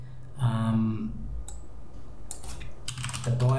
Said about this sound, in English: all I've got to do is type in version